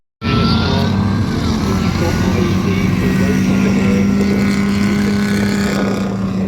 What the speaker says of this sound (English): Combat engineer tractor going